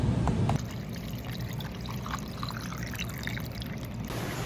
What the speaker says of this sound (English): pour it in a glass.